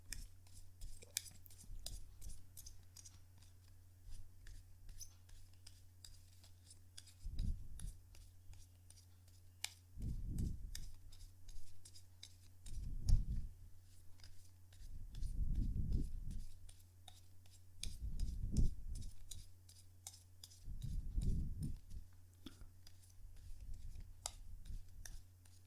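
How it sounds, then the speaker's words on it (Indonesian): Tarot cards are shuffled in the hands, six soft riffling bursts spaced a few seconds apart, faint and close against a low steady hum. "kartunya dikocok dulu sebelum kita mulai"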